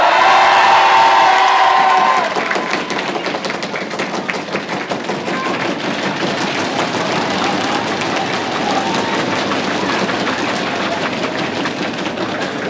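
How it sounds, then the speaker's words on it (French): A student rally crowd at a university in Rouen cheers, with a few shrill whoops at first, then breaks into dense, sustained applause that fills the space and continues evenly to the end. "Merci beaucoup pour vos applaudissements"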